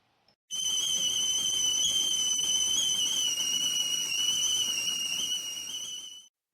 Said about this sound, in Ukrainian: А я чайник, дуже люблю співати.